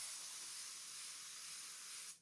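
Spray gun misting velvet coating onto a dessert, a faint, steady high hiss lasting about two seconds before cutting off abruptly, heard alone.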